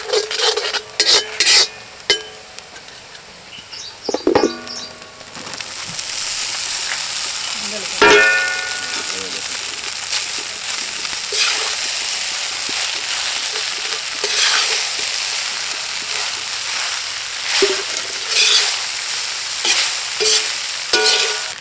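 Ginger and garlic sizzle steadily in a hot pan while a utensil stirs and scrapes, with a few sharp metallic clinks near the start and occasional louder scrapes throughout, close and continuous.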